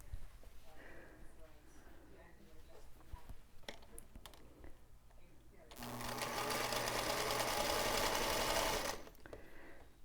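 A home sewing machine stitches quilt rows in a steady loud whir lasting a few seconds, preceded by quiet handling noises and light clicks.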